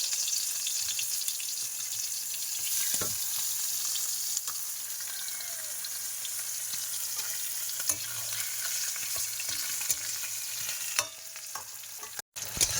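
Rohu fish pieces sizzle steadily in hot oil in a wok, a dense, continuous frying hiss held at close range for the whole stretch, with a few brief clinks and a sharper crackle near the end.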